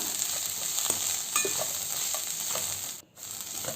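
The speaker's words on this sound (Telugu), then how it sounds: "చింత చిగురు సన్నగా కట్ చేసుకున్నాం కదండి దాన్ని యాడ్ చేసుకునేసి ఆయిల్లోనే ఒక ఫైవ్ మినిట్స్ వరకు బాగా వేపుకుందాం" Finely chopped tender tamarind leaves fry in hot oil, a steady bright sizzle with occasional scraping stirs, close and even, broken by a brief dip near the end.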